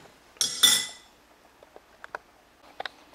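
Beef stew from a slow cooker being served out, with two loud clinks of a utensil against a dish near the start, then several faint, scattered taps and clicks.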